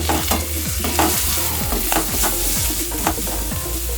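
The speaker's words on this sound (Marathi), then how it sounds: "हे सर्व व्यवस्थित हलवून घ्यावे." A spoon stirs chili powder and garam masala in a hot pan for restaurant-style gravy, scraping steadily in a repeated rhythm over a constant close sizzle, with no talking.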